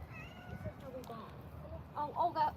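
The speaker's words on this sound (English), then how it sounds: "This little kitty cat is so sweet." A small kitten gives a few short, high meows, clustered toward the end, close to the microphone. A person speaks softly in the background.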